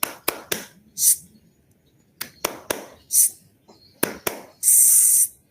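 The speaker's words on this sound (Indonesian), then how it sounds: "Tepuk 3 kali, terus silakan Kak ya. Tepuk angin." Scout group's 'tepuk angin' clap pattern: three sharp, close hand claps followed by a breathy whooshing wind sound, repeated three times with brief pauses, the final whoosh longer.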